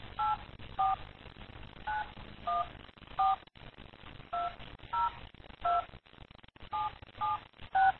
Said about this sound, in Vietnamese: xin bấm vào số điện thoại muốn gọi.